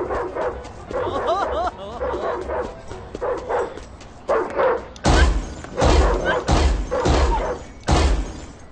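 A cartoon dog in the Ed Edd n Eddy video game barks and yips in loud bursts, with some whimpering, mixed with character voices and crashing game sounds.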